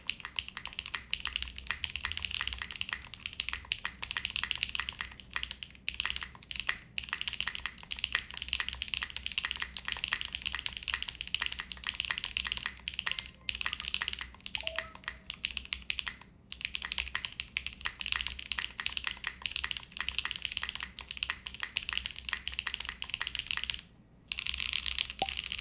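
Continuous close typing on a Zoom 75 mechanical keyboard, dense clacky keystrokes in a steady stream with brief pauses and occasional heavier spacebar thocks, no voices.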